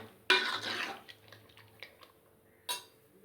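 Cooked dal being stirred into sambhar in a metal pot, with a loud scraping clatter of a spoon at the start fading into softer stirring and a couple of sharp clinks of utensil against the pot.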